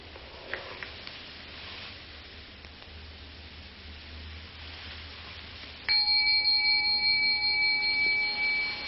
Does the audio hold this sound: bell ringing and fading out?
yes